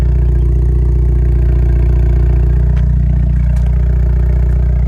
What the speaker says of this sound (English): But listen to this exhaust, I really like this.